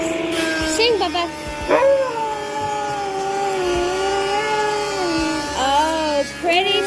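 A shop dog howls along with a noon siren in a furniture workshop, holding long, wavering, sung notes that rise and fall, with brief breaks between phrases and a steady background hum.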